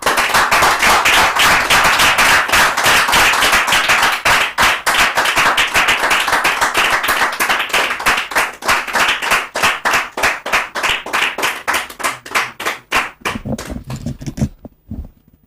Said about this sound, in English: with a resounding round of applause, shall we invite upstage Comrade Kwesi Pratt Jr.